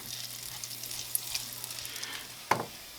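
Sage leaves fry in butter in a pan, giving a quiet, steady close sizzle with light crackles and a single sharp tap of a utensil against the pan near the end.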